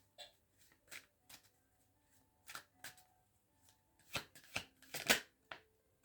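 Tarot cards are shuffled by hand in a series of quiet, quick flicks and riffles. They build to a few sharper, louder snaps near the end.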